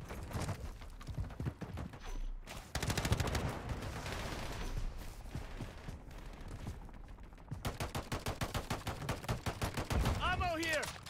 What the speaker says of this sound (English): Decoy grenade out!